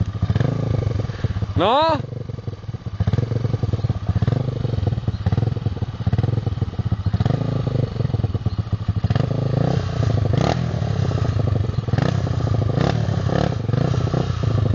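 Quad bike engine revving loudly and continuously at close range, with shouted voices over it, during an off-road ride near Břeclav.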